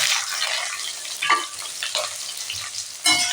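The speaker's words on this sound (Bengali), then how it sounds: "ডুমো ডুমো করে কেটে রেখেছি, পেঁয়াজগুলো আমি ছেড়ে দিলাম।" Diced onions hit hot oil and fry with a bright, steady sizzle, punctuated by a few louder bursts as they are stirred, close and unaccompanied by speech.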